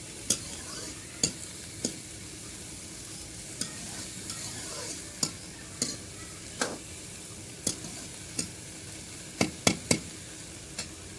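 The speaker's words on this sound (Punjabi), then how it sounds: "ਆਪਾਂ ਨੂੰ 5 ਮਿੰਟ ਭੁੰਨ ਲਈਏ ਸਬਜ਼ੀ" Guar bean vegetable curry with potatoes frying in a pan, a steady soft sizzle broken by a dozen sharp scrapes and clinks of a spoon stirring at irregular intervals, close and fairly quiet.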